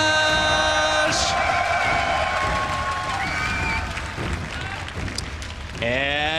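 Audience applause and cheering at a StarCraft 2 tournament, IEM Toronto, a dense sustained crowd roar of clapping under a loud commentator's voice and arena music.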